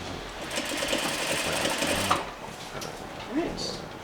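A sewing machine runs steadily while stitching a Parsons chair slip cover, then stops, followed by faint handling sounds and a quiet voice.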